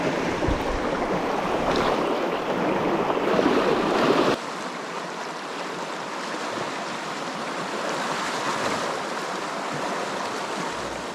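Rushing stream water flows continuously at a bikepacking stream crossing in the Oregon high desert, a dense steady roar up close, shifting slightly in tone partway through, with no voices.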